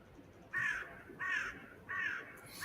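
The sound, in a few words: crow cawing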